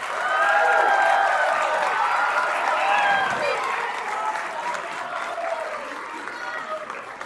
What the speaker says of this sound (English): Round of applause for your concert band.